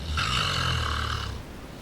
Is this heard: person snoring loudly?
yes